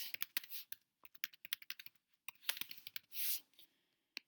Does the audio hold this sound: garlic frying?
no